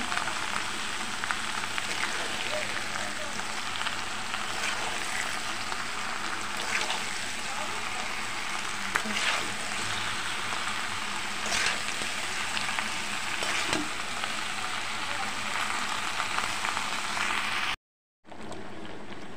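Pickle mixed with chilli powder, sugar and salt being stirred in a pan gives a steady, dense sizzling hiss with occasional soft scrapes. The sound runs evenly throughout, then breaks briefly near the end, with faint talk at times.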